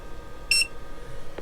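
An ALLPOWERS S300 power bank gives a single short, bright electronic beep as its DC output is switched on, close and clear over a quiet background, with a faint click shortly after.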